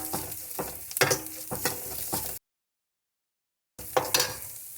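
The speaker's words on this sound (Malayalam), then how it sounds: "ഇനി ഇതിലേക്ക് ജീരകവും മല്ലിയും കൂടെ ചതച്ച് വെച്ചിരിക്കുന്നത് ഇതിലേക്കൊന്ന് എണ്ണയ്ക്കകത്ത് കിടന്നൊന്ന് ചെറുതായിട്ടൊന്ന് മൂക്കട്ടെ" Crushed cumin and coriander fry in hot oil for tomato rasam, giving a steady close sizzle with a few stirring scrapes, cut by a brief silent gap.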